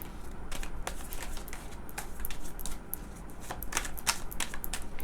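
Tarot cards being shuffled by hand give a quick run of soft, crisp riffling clicks and flutters, close and steady throughout with no talking.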